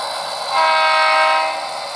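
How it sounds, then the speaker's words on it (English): A model train locomotive running on a layout gives a steady, loud, sustained mechanical tone with harmonic whine that swells slightly midway, with no voices. "we'll get to see this lovely locomotive running around"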